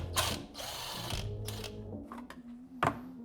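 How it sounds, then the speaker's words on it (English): A ratchet wrench works on the lower shock mounting bolt of a Kawasaki Teryx KRX 1000 side-by-side, making fast, close clicking bursts followed by a fainter metallic turning sound. "I'm going to remove that lower shock mounting bolt along with the shock cover."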